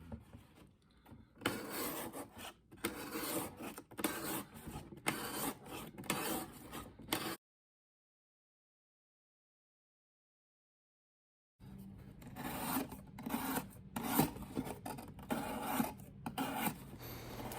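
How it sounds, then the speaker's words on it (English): A knife slices strips down cardboard box flaps in close, repeated rasping strokes, with a silent gap partway through and no talking. "I cut little strips down each of these flaps on this cardboard box"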